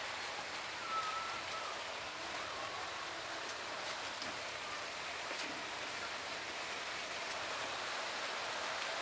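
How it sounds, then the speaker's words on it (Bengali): Sudden rain falling, a steady even hiss of drops pattering on surfaces, fairly faint and continuous with no voices. "হঠাৎ বৃষ্টি চলে আসলো।"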